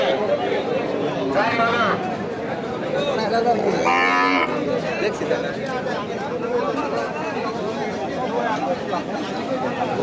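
Cattle at a busy livestock market in Nandail moo loudly nearby, with a drawn-out call standing out, while crowd chatter and voices continue throughout.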